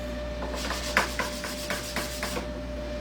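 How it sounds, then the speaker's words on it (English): Wooden frame being hand-sanded with 80 grit sandpaper: a series of short rasping strokes at a regular rhythm, close and fairly quiet over a steady background hum. "I'm just going to take an 80 grit to this as well"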